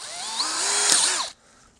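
A drill motor spot drills holes in a Colt 1911 grip, whining steadily at close range with shifting pitch for over a second before cutting out, then briefly starting again.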